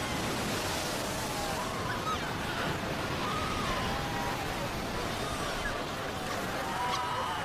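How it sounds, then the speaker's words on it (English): Ocean waves surge onto a beach in a continuous hissing roar of surf, steady and moderately distant, with no talking. "The pups fight desperately against the onslaught of the waves."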